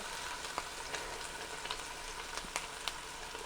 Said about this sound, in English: So everybody knows I love this sizzling sound.